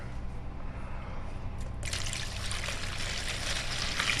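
Water is poured into a container while cleaning smoking pipes with a pipe cleaning solution, a continuous close trickling splash that grows brighter and fuller partway through.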